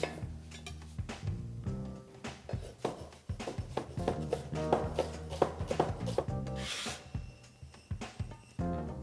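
Rapid knife chops on a cutting board as an onion is finely chopped, quick irregular taps in bursts with some clinks of kitchenware, close and fairly quiet.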